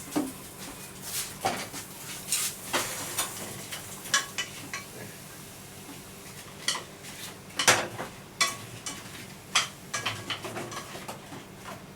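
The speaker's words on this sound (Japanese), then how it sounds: "リンゴをバターで炒めていきます" Apples frying in butter in a pan, heard as a steady low sizzle broken by scattered clinks and scrapes of a utensil against the pan, with no voices.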